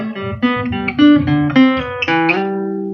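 Electric guitar plays a short melodic lick of distinct plucked notes, with a smooth hammered-on note slurring into the next, ending on a sustained ringing tone.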